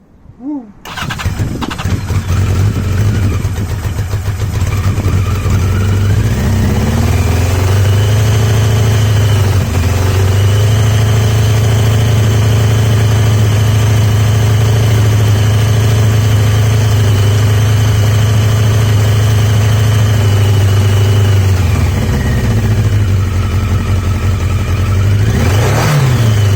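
A cold 1982 Yamaha XJ750 motorcycle engine cranks and fires up on choke, then settles into a loud, steady close-up idle that lifts and falls slightly before dropping away near the end.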